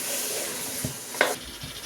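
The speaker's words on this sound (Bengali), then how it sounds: "মাংসটা এখন আমি একটু কষিয়ে নিচ্ছি।" Chicken meat sautéed in oil in a pot for chicken biryani, a soft steady sizzle with a few stirring knocks and scrapes, close but fairly quiet, no voices.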